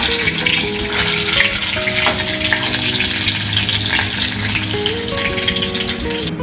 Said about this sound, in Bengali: হয়ে গেল মাছ ভাজা? হ্যাঁ, একটু কড়া বেশি করিনি, অল্প অল্প করে ভেজে নিই।